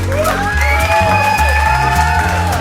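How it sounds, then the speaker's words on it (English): An audience claps, cheers and whoops at the close of an evening music and comedy show, a loud, dense and continuous crowd roar with shouted voices rising above it. "Guys, give yourself a round of applause."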